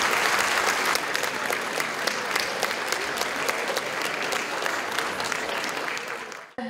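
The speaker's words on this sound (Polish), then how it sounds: "Jeszcze raz ogromne brawa dla laureatów srebrnego dedala." Loud, dense applause from a concert audience for award laureates at a New Year's concert holds steady for several seconds before cutting off abruptly.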